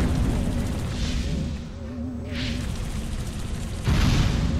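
Tank shells explode in the PS2 game Destroy All Humans!, heard as loud, rumbling booms over a constant low engine drone, with one blast near the end.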